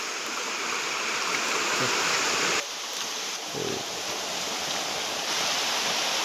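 River water flows nearby in a steady, full rushing wash, loud and continuous, with a brief dip partway through and no talking.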